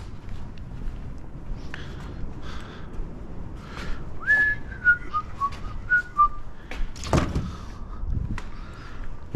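Someone whistles a short melodic tune, a few sliding and stepped notes, while working on the convertible top micro switches of a 2013 Porsche Boxster 981, with a couple of clicks and a thump around it.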